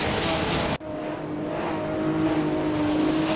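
Race car engine in a racing video game, revving loudly in a dense roar that cuts out abruptly for an instant and then picks back up with a steadier tone.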